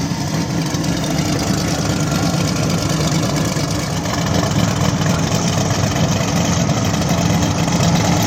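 Drag racing engines at an outlaw small tire event at Mooresville, a Mustang against a Turbo S10, rumbling loud and steady in a low idling drone throughout.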